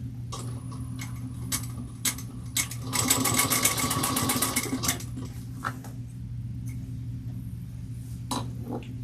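A sewing machine stitches a seam at 3/8 inch through shredding black fabric. Short bursts of stitching come first, then a louder sustained run in the middle, then more short bursts close by over a steady background hum.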